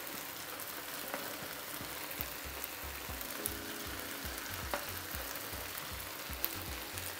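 Kharcho with chicken, bulgur and softening tomatoes simmering in broth in a pot, giving a faint, steady bubbling sizzle with occasional soft pops and no voices.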